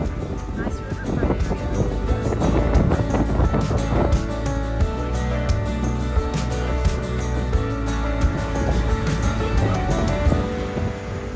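Loud wind buffets the microphone over a deep boat engine rumble and water noise on the Tombigbee waterway, a continuous roaring blast with a voice faintly underneath.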